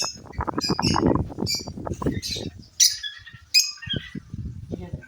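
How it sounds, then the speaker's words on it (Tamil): Sparrows chirp and tweet in quick, bright bursts nearby on a rooftop terrace, with a person talking underneath at the start. "இந்த குருவிகளோட சத்தம்"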